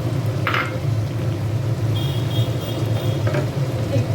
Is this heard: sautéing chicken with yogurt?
yes